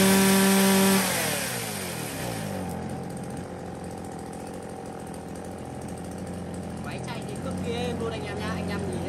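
Engine of a used Japanese chainsaw with a thick double bushing, from a lot of STIHL, Echo Kioritz, Komatsu and Shindaiwa saws, running steadily near at a high, loud tone after a brief louder start, with someone talking over it.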